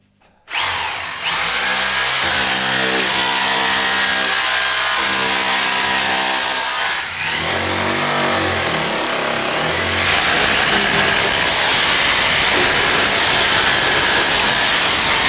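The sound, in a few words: Ryobi SDS hammer drill drilling and chiseling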